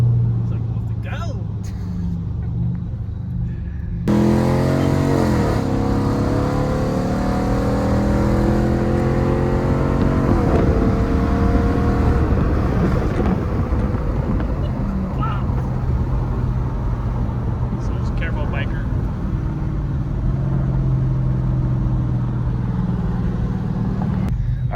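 A 5.7 Hemi car on a dyno during a baseline pull, its engine droning loud and steady with rising harmonic sweeps as revs climb, continuous from start to finish with voices faintly underneath.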